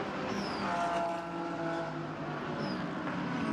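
A GT race car engine at Sepang during Blancpain GT Series Asia qualifying, a faint distant engine drone with rising revs and a couple of brief whines, heard from afar under a steady broadcast background.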